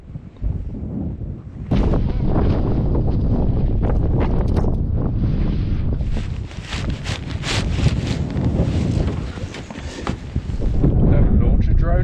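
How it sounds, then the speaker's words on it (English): Loud, roaring desert wind in Nevada buffets the microphone continuously, with gusts rising and falling in heavy rumbling bursts. "It was even almost too windy for just the tripod"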